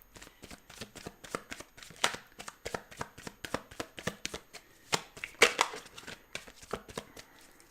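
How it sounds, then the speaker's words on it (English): Tarot cards riffle-shuffled in a rapid, irregular run of crisp flutters and soft taps, close and fairly quiet, with no voices. "Let's just shuffle up your decks"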